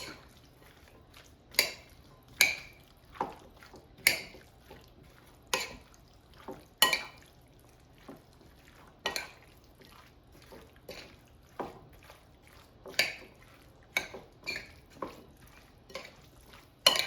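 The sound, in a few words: mixing tuna salad in a bowl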